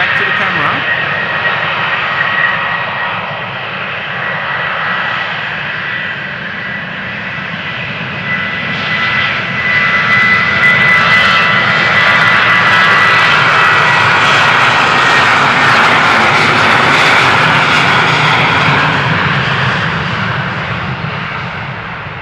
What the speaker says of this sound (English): So this is KLM flight 1431, outbound Birmingham, 737-800, 23 years old.